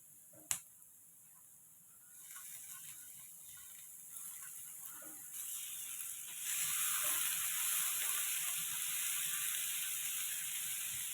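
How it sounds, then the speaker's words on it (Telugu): Amaranth leaves dropped into hot oil in a pan, starting with a sharp clack and then a hissing sizzle that builds and grows louder and brighter as the frying continues. "ఇప్పుడు మనం ఆకు వేసేస్తాము మనకి ఇంకా ఎక్కువగా ఫ్రై అయినాయంటే మళ్ళీ బాగోదు"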